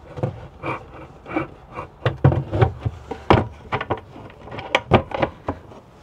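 A storage hatch door is fitted back into place in a 2024 Dreamer D55 Fun camper van, giving a series of close, sharp knocks and clunks of panel and latch, with no talk.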